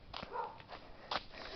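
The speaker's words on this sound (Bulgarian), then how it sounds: "Бати е кучето." A dog named Bati in a village gives faint, quick yips and whimpers, a few short bursts at low volume with no one talking.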